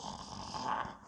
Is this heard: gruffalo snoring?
yes